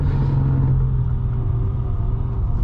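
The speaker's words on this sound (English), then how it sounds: "the reason that car makes a little bit of noise there is because it doesn't have solid motor mounts, and it's got aftermarket headers" A 2006 Mercedes-Benz E55 AMG W211 with aftermarket headers and worn motor mounts gives off a continuous low rumble and vibration, the headers rubbing against the body, loud and steady with no talk.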